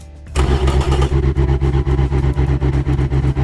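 Saleen twin-turbo V8 of about 1,000 horsepower in the Automation car game, cranking and catching, then settling into a loud, lumpy idle with a strong pulsing rhythm, close and with no talk.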